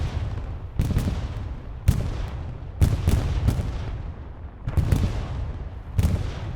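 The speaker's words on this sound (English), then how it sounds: "We've got all 36 rockets striking target" Rocket barrage in the WW2 video game Hell Let Loose, a string of heavy booming impacts landing one after another at irregular intervals, each with a rumbling decay, loud and with no talk over them.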